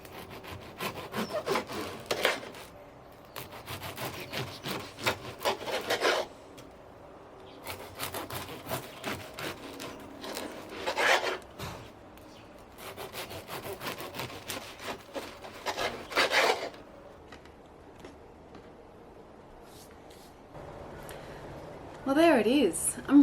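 Bread knife sawing through a crusty 50% whole wheat sourdough loaf, three long rhythmic bouts of crunchy back-and-forth strokes close to the mic, separated by brief pauses, with a voice talking throughout.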